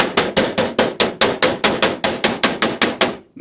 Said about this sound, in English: Metal to metal is actually for the very last bit of hammering that you need to do